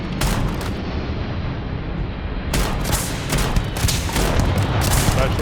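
Dense, loud gunfire rattles through a fight in Starfield's Shattered Space expansion, with rapid continuous shots and heavy booming impacts.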